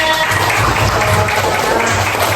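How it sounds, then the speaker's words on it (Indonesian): A classroom of third-grade students claps loudly and continuously, a close, dense burst of applause lasting a couple of seconds. "tepuk tangan semuanya"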